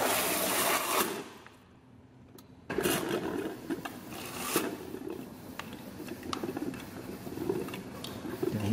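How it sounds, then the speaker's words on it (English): Air sputtering and hissing out of a water line in an apartment during maintenance, loud rough gushing with spurts and a brief drop partway through, no talk. "it should start sputtering out, get all the air out of the line"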